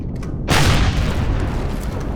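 Gunfire from enemies in the space-survival game Empyrion, aimed straight downward, lands as a sudden loud boom that settles into a sustained rumbling roar.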